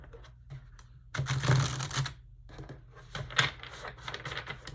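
Tarot cards are shuffled close by in soft rustling bursts, with a longer riffle in the middle and lighter taps and slides after it, and no talking.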